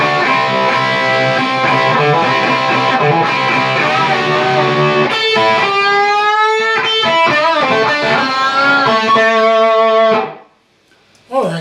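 A distorted electric guitar plays the opening solo of a song, starting with thick sustained notes, then bending and sliding lead lines, loud and alone before stopping.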